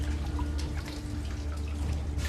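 Water drips and trickles along an underground river in a cave, with soft, close drops over a steady hum and no voices.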